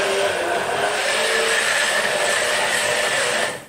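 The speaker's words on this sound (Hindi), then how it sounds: "मैं हैंड ब्लेंडर से बना रही हूँ," A hand blender runs loud and steady at close range blending a banana milkshake, a continuous high whirring buzz that cuts off abruptly at the end.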